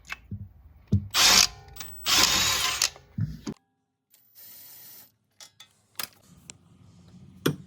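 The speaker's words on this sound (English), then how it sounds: "I turn the steering knuckle for better access and remove the brake caliper with a" A power driver with a 17mm socket spins off the front brake caliper bolts on a 2016-2022 Prius, in several loud whirring bursts separated by pauses, quiet clicks and a softer run.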